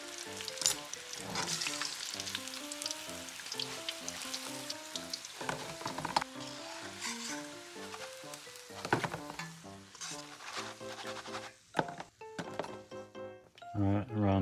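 Largemouth bass fillets frying in oil until crispy: a crackling sizzle with light clinks of utensils, heard under background music and some speech, fading toward the end.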